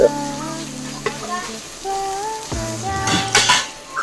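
Oil sizzles and fries steadily in a pan while cooking mushroom potato pulao, with a few sharp metallic clinks and scrapes of a utensil against the pan, one brief burst of stirring louder near the end.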